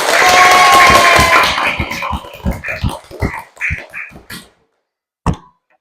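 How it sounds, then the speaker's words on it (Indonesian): A classroom claps, starting with a dense burst of many hands that thins into scattered individual claps and ends with one last loud clap after a short silence. "Tepuk tangan untuk kita semua."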